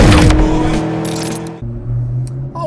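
A 1998 Ford Mustang Cobra convertible with a 4.6 V8 and five-speed manual rumbles nearby, a loud low engine tone that drops back after a brief rev and settles into a steady idle.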